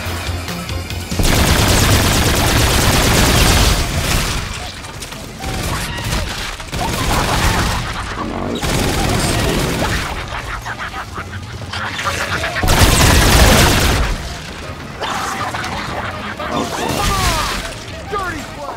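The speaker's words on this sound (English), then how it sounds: "The sentry turret should help me with them coming through here" A sentry turret firing at zombies in Infinite Warfare Zombies: sustained rapid automatic fire in long bursts with brief pauses, loud and close, while a voice talks over it.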